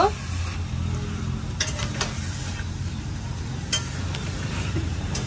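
Duck meat with onion and ginger-garlic paste sizzling in a pan, a continuous frying hiss broken by a few sharp scrapes and clinks of stirring.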